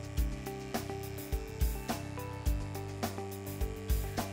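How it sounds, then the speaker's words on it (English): An electric barber clipper with a quarter-inch blade buzzes steadily as it is drawn slowly through hair around the edges of a side-part cut, with repeated louder rasping bursts as it bites into the hair. "move the clipper slow through the hair, let it cut, move in a few different directions"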